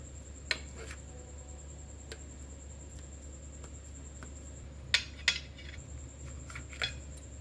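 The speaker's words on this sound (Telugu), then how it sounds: "ఇప్పుడు దీన్ని పీస్ కట్ చేద్దాం" Knife slicing set malai kova, a homemade milk sweet, into pieces: a few sharp clicks and taps of the blade against a plate, spaced apart, faint over a low steady hum.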